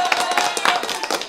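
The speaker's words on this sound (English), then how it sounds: "Let's clap it up again, everybody." A church congregation claps briefly after a sermon on Corinthians, a short burst of hands with a voice speaking over it.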